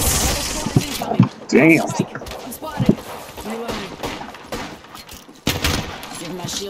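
Gunfire in the Apex Legends video game, with several quick shots and thumping bursts scattered through the clip under a player's voice.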